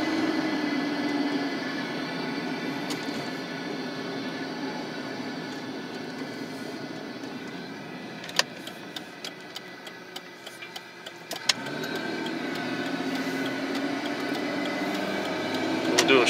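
A 2001 Jeep XJ engine idles steadily while still warming up, a continuous low running drone with a few faint ticks and knocks near the middle.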